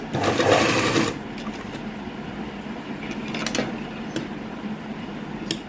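A sewing machine stitching a blouse from saree cloth whirs loudly and close for about a second, then quieter intermittent stitching and handling noises follow.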